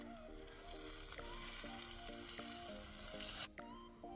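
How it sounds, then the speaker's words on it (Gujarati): Chopped onion and green chillies sizzle steadily in a hot pan for a Kathiyawadi brinjal dish, with a continuous fry hiss, occasional stirring scrapes and a soft tonal background. "લીલા મરચાં નાખીશું. પછી સમારેલી ડુંગળી નાખી. હવે એને મિક્સ કરી"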